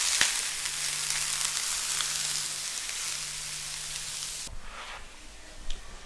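Thinly sliced onions sizzle on a buttered grill, a steady bright crackling hiss that holds evenly, then softens near the end, with no talking.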